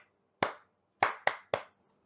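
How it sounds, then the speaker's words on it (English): A single pair of hands claps a short rhythmic pattern for classroom call and response: one clap, a pause, then three quick claps, each crisp, close and alone in a quiet room. "Or you can use clap pattern"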